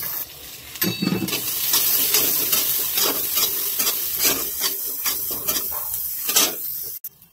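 Peanuts, curry leaves and onion frying in oil in a pan, loud crackling sizzle with repeated close scraping stirs, ending in a brief clatter and sudden drop.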